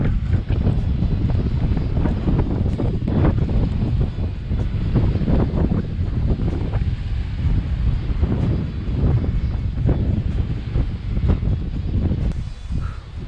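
Steady, blustery wind buffets the microphone on a high hilltop, a continuous loud roar with gusty pulses throughout and no talking.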